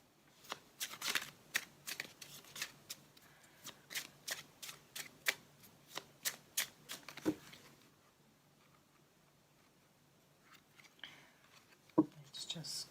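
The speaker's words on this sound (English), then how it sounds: "Let's just give this an extra shuffle." Tarot cards are shuffled in a fast series of crisp riffling bursts, each a sharp papery snap, repeating steadily for about seven seconds before a pause and a few faint handling sounds.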